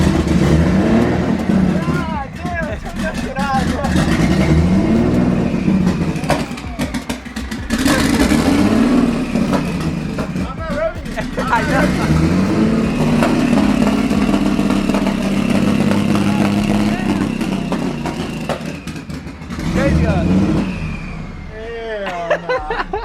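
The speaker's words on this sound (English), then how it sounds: "it's like impossible to drive this car because it's too loud" A loud Nissan GTR is driven, its engine droning and revving unevenly with clattering bursts, heard from inside the car while people talk over it throughout.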